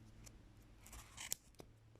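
Sharp, pointy scissors snip through yarn wound around card doughnut rings while a pompom is made, giving a couple of faint, crisp close-up cuts.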